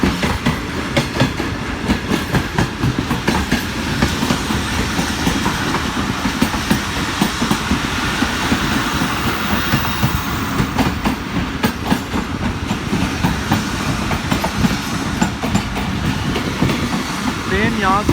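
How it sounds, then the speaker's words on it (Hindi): The Hazara Express pulls out of Bahawalpur railway station in Pakistan, its wheels rumbling and clattering steadily on the rails, loud and continuous from close by, with a voice speaking over it. "अभी बहावलपुर रेलवे स्टेशन से जो हमारी ट्रेन है वो रवाना हो गई है"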